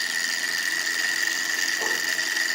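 A small model Stirling engine runs faster with its generator disconnected, producing a steady, even high-pitched whir with a faint mechanical hum beneath and no other sounds.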